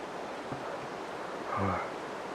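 A stream in the hills runs full with plenty of water, giving a steady, broadband rushing wash throughout, with a slightly louder surge near the end and no talking.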